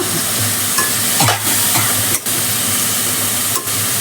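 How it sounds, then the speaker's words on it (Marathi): Spinach sautéing in oil in a pan for Marathi-style palak dal: a loud, steady sizzle and hiss close up, broken by a few soft stirring scrapes, with no voices. "पालक जरा तेलावर परतून घेतला"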